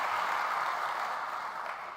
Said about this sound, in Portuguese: Então eu queria pedir uma salva de palmas a esta grande mulher.